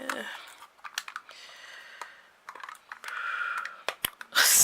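Packaging of a Stampin' Up! embossing paste jar being opened by hand, with close, dry crinkling and a scatter of sharp clicks and rustles in uneven bursts, ending in a louder crackle of tearing wrap.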